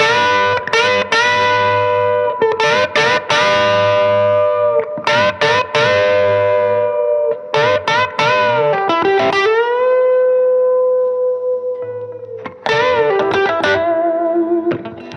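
A Gibson Les Paul Standard electric guitar plays chords and single notes with sustained, ringing tones and brief pauses, its tone shifting slightly as the neck and bridge pickup balance changes.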